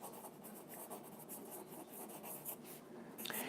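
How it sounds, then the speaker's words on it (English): A pen scratches steadily across paper at close range, a quiet, continuous scribble of short strokes with no talking. "So, I'm going to write that down."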